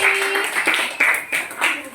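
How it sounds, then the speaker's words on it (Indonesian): A school class claps for a student group, with short bursts of clapping close by while a voice talks alongside. "tepuk tangan untuk kelompok Melati"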